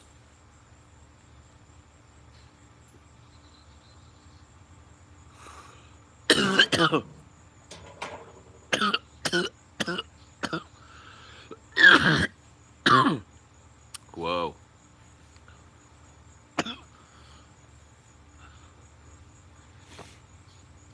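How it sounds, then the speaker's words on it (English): Several short, sharp coughs and throat-clearing bursts scattered across a quiet room, some in quick pairs, with a brief exclamation among them. "Here a cough, there a cough, everywhere a cough, cough."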